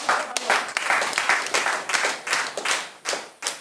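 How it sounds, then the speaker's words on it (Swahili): A church congregation claps in praise during a worship service, loud rhythmic bursts of hand claps that swell and break off in waves with short gaps between them. "Pigia Bwana Yesu makofi"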